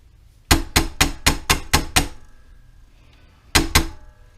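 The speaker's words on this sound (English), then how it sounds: "I don't have a punch the right size for this roll pin, so I'm having to make do with what I have." A punch is struck by a hammer to drive a roll pin into a flip-up headlight motor assembly on a C4 Corvette: seven sharp metallic blows in a quick steady rhythm, a pause, then two more close, loud strikes.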